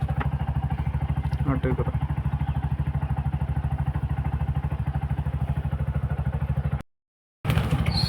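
A started auto rickshaw engine idles in a steady, rapid, loud putter close by for several seconds, briefly cut off before resuming, with someone talking over it.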